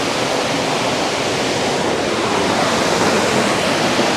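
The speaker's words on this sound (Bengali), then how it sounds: "ফলসটা কিন্তু আরও বড়, ওই জায়গাটা দেখছো ওর থেকেও কিন্তু উপর থেকে ফলসটা পড়ছে।" A large waterfall plunges from high above near the double-decker living root bridge at Cherrapunji, Meghalaya, producing a loud, dense, unbroken roar that fills the scene, with no voices.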